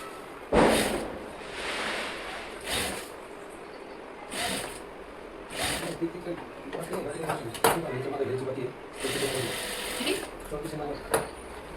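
A sewing machine runs in several short stitching bursts while fabric is topstitched for a fitted garment, the bursts separated by pauses, with someone speaking over and between them.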